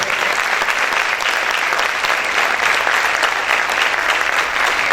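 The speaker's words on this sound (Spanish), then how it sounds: "Un aplauso para el Señor, déselo fuerte." A church congregation applauds the Lord in a loud, dense, steady ovation that holds at full strength throughout, with no talk over it.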